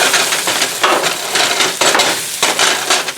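Pierogies flipped and scraped in a frying pan, with continuous loud sizzling and repeated scraping strokes of a utensil against the pan, no talk.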